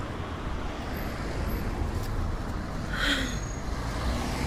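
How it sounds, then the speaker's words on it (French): Street traffic hums steadily, with cars passing nearby on a hill road and a brief hiss near the end, recorded outdoors with no talk. "Désolée pour les voitures."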